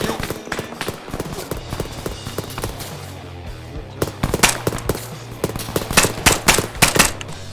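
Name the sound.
gunfire in Arma 3 video game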